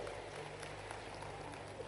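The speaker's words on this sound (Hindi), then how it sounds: "जरा ताली बजाओ तो दिल से बजाओ" An audience at an investors' summit in Madhya Pradesh claps steadily, a dense continuous hall applause with a low hum underneath, no pauses across the short stretch.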